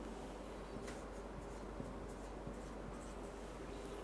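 A pen writes the number 40,000, making faint, soft scratching strokes over a steady background hiss.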